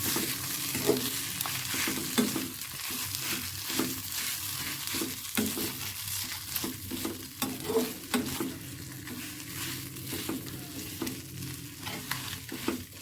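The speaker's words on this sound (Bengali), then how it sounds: "দিয়ে দেবো সেদ্ধ করে রাখা আলু, যেটা আমি ভালো করে মিশিয়ে নেব" Boiled potatoes being stirred into a frying mixture in a pan: steady scraping and stirring strokes over a continuous sizzle, close and moderately loud, with no voices.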